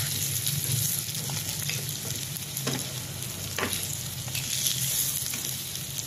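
A pork hock sizzles and spits steadily in a hot pan, with a dense, continuous frying hiss broken by occasional sharper crackles and a few light stirring knocks.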